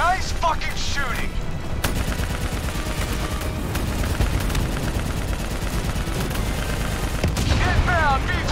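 Heavy sustained gunfire in the Call of Duty Black Ops 3 video game, dense rapid bursts forming a continuous loud barrage, with brief shouted voices at the start and end.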